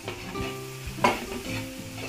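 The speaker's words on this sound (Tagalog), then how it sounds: "maglagay po tayo ng sibuyas." Onion tossed into a frying pan of sizzling garlic for a Filipino dish, with steady frying crackle, stirring scrapes and a brief louder hiss burst midway as the pieces hit the oil, close and alone.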